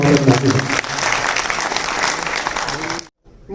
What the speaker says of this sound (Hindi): जोरदार तालियों से तबादला